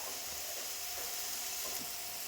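Cumin seeds and ajwain hit hot oil with frying tomato and onion for a cauliflower side dish, giving a steady, close, bright sizzle with faint stirring scrapes and no voices over it.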